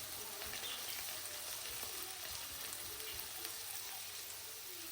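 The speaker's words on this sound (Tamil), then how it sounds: "சின்ன துண்டு இஞ்சியும் கொஞ்சம் கருவேப்பிலையும், 2 பச்சை மிளகாய். இது எல்லாத்தையும் முதல் நல்லா வதக்குவோம்." Ginger, curry leaves and green chillies sauté for pineapple fried rice, a faint, even hiss of oil with little variation and no voices.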